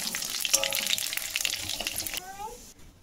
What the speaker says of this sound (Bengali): আর ওই তেলের মধ্যে ফোড়নে দিয়ে দেবো দুটো শুকনো লঙ্কা আর তেজপাতা, আর এই কিছুটা কালো জিরে দিয়ে ফোড়নটা খুব ভালোভাবে ভেজে নেব।